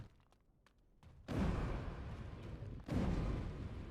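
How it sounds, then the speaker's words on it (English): Explosions in Dragon Age: Origins, two heavy, rumbling booms, one after a quiet stretch and a second shortly after, each followed by a sustained roar that slowly fades. "What is with these fucking explosion noises?"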